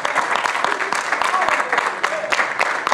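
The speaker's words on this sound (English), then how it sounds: "give God a big old clap of praise" A church congregation claps in praise, with dense, irregular hand claps from many people in a large room and voices shouting over the applause.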